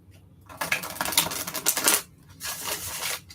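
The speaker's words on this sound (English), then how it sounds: "I love how these cards shuffle so good." Tarot cards being shuffled by hand in two quick riffling bursts, crisp close papery flutters separated by a short pause.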